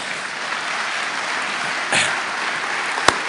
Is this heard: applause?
yes